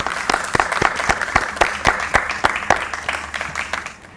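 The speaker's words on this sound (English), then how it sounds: "Let's give each other a round of applause." Applause at a school speech day, with a steady run of distinct, fairly close hand claps at an even rhythm over a light murmur of the crowd.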